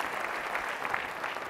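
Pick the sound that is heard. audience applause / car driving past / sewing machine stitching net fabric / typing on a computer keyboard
audience applause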